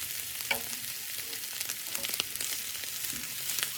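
Chicken gizzards and hearts sizzle steadily in a hot pan while being stirred, with a constant hiss of frying broken by occasional soft scrapes and clicks of the utensil, heard close up with no voices.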